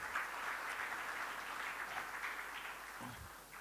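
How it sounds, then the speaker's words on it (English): Applause from the audience at a charity awards night, a steady wash of clapping that fades slightly near the end, moderately distant and without talk. "big round of applause for Anil and Vivek."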